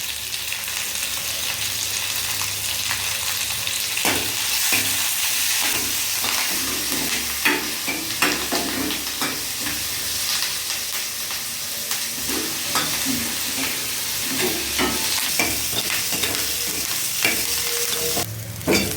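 Curry leaves and cumin fry in a pan for a kollu paruppu chutney, a steady, close sizzle with repeated scraping stir strokes and small clinks throughout.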